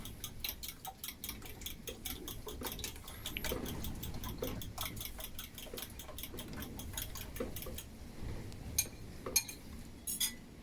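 A mixture for Easter milk kissel being whisked in a bowl, the whisk striking the bowl in a rapid, steady run of light metallic clicks and ticks that continues close up with no one talking.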